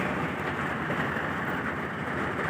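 Heavy rain pours steadily and loudly during a sudden downpour on a road drive between Cavite and Laguna, a dense continuous wash with no clear thunder peals standing out.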